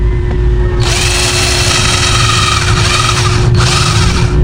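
A power drill runs loudly and steadily, its bit boring through a barrel, with a high whine that starts sharply, briefly dips near the end, then carries on at full load, no voices.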